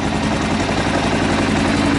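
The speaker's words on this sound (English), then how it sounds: "It still has that good old fashioned KLR chug." Kawasaki KLR motorcycle engine with a Lex exhaust idling right after starting, a steady, close, low thumping chug that holds even and fairly loud throughout, with no voices.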